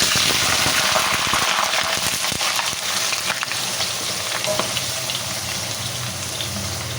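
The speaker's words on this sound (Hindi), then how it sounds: "ऑयल हमारा बहुत अच्छे से गर्म हो चुका है और आंच हमने बिल्कुल से स्लो कर दी है। अब हम इसमें आलू डालेंगे।" Peeled, cut large potatoes go into hot oil over a low flame for dum aloo, giving a loud, dense sizzle and crackle right up close that eases to a steadier, softer frying hiss.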